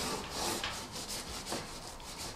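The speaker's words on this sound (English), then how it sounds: "if I just slowly and lightly take the heavy off, I will now start pulling the grease away." Scraper rubbing and rasping across a greasy oven surface, a steady close scratchy scrape with slight pulses, alone without talk.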